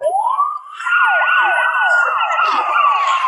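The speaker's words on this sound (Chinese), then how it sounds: "警笛声响起" Police sirens wail loud and near, rising into a sustained tone with rapid yelping warbles layered over it, and several sirens overlap as they arrive.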